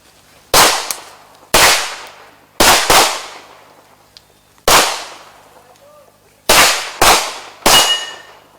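Pistol shots fired at 10 meters at a shooting range, eight sharp loud cracks in an irregular sequence, some in quick pairs, each ringing out briefly with a fading echo and no talk over them.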